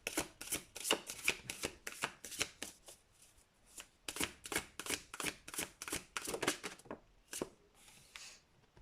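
Tarot cards shuffled by hand, a quick run of crisp riffling bursts in rapid rhythm, a short pause, then another run that thins out toward the end, close and fairly quiet with no voices.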